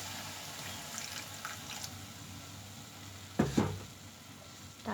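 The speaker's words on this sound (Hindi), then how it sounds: "थोड़ा सा पानी डालूंगी इसमें" Water poured into a pan of broccoli on the stove sets off a loud sudden sizzle and hiss, rising over a steady frying crackle, then settling.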